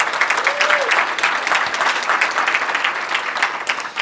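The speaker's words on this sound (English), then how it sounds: "a round of applause for our panelists" Audience at a United Nations panel event applauding the panelists: dense, steady clapping from a room full of people, loud and continuous for the whole stretch.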